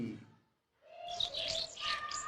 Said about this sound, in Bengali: তো বুলবুলি পাখি দেখো গাছের ডালে কিচির মিচির করছে।